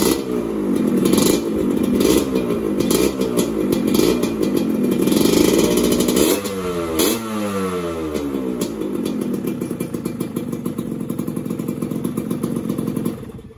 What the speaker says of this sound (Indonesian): motor dipanasin dulu